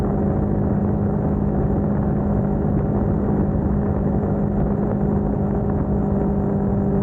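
Steady engine drone and road rumble from a Cfmoto 300nk motorcycle cruising around a hometown, a constant near hum with a faint tonal whine and no breaks or talk.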